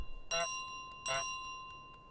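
Two short bright bell rings in Untitled Goose Game, spaced about a second apart, each with a harmonic ring over a quiet, steady game background.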